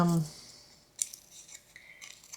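Scissors trimming fabric and lace scraps for a mini journal, giving a quick crisp snip near the one-second mark and small handling rustles, with a soft voice at the very start.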